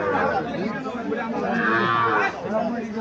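A calf at a rural cattle market in Cumilla before the Eid sacrifice season gives long, drawn-out moos, close and loud, with faint crowd chatter behind it.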